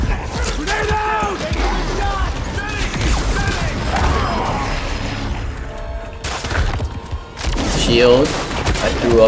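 Gunfire and combat in the Spider-Man 2 video game, with dense bursts of shots, impacts and booms over music, loud and continuous, while a person talks excitedly over it.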